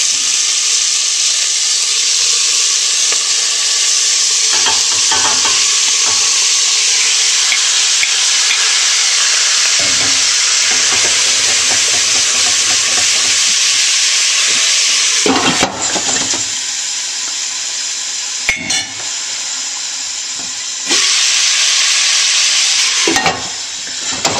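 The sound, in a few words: lamb meat browning in a hot pan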